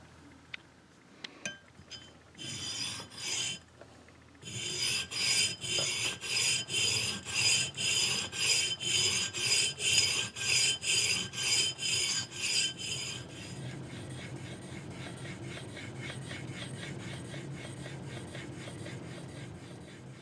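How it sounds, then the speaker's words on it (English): A Stanley socket chisel being honed on bench stones, its bevel and flattened back worked by hand: a steady run of rhythmic, raspy strokes, close and even, followed by a faster, quieter scrubbing passage. "I'll flatten and polish this back a bit and hone an edge on the bevel"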